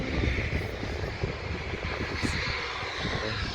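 An easyJet airliner flies past, a broad continuous jet engine roar that holds steady and fairly loud for the whole stretch, with no talk over it.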